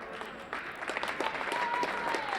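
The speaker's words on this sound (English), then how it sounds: "Nice round of applause for Emily." Applause from a crowd at a girls' high school basketball game, steady clapping that swells after a brief opening and carries on, heard from a distance in a gym.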